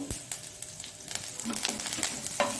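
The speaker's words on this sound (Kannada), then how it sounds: "ಬೆಳ್ಳುಳ್ಳಿ ಅದರಲ್ಲಿ ಫ್ರೈ ಆಗಬೇಕು" Crushed garlic with mustard seeds, ginger and curry leaves fries in a little oil over low flame for a curd chutney tempering, giving quiet, close sputtering pops and crackles over a soft sizzle.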